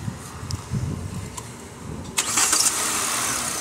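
A used car at a budget used-car market cranks briefly and catches, then settles into a steady close idle after a quiet stretch of background noise.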